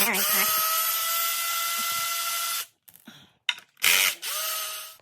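A Ridgid power gun zaps 3/16 skid plate bolts off a Suzuki RMZ dirt bike: a long steady high whine for over two seconds, then short bursts, a brief pause and another loud burst winding down near the end.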